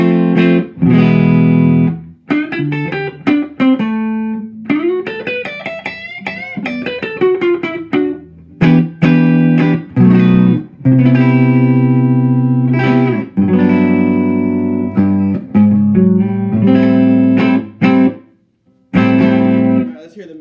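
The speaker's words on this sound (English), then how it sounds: "Here's some clean." Clean electric guitar tone through a Traynor YCV80 Custom valve 2x12 combo amp, played as loud, ringing chords and melodic runs with short pauses between phrases, close and clear.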